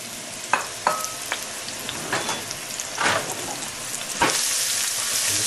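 Celery, onion and chopped mushrooms frying in a pan, a steady close sizzle with scattered stirring scrapes and taps, growing louder toward the end.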